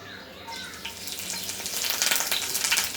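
Curry leaves and garlic crackle and sizzle in hot oil for a Konkani-style zhunka, a dense hiss that swells louder after the first half second, close and steady, with no talking.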